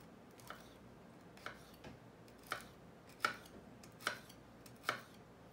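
A sharp paring knife cuts food on a board in a quiet kitchen, with six or seven crisp, evenly spaced taps, faint and close.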